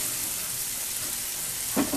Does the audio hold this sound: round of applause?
no